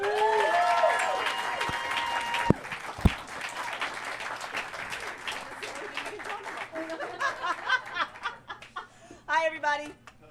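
Applause for a comedian at a stand-up comedy show breaks out after a brief voice, scattered claps and cheers building then thinning, with chuckles and talk on stage through the latter half.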